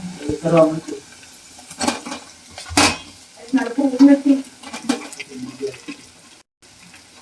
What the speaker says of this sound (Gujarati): હવે એમાં આપણે ઢોકળા નાખી અને બધું હલાવી લઈએ